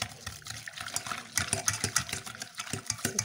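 Hot milk is poured into tart custard while it is stirred, a soft, faint trickle with light clinks and scraping of the whisk against the bowl, fairly close.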